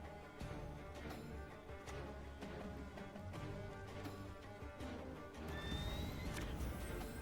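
A donkey brays in the card game Gwent, a neighing call set into a loud, dense mix of game music and effects that fills the whole stretch.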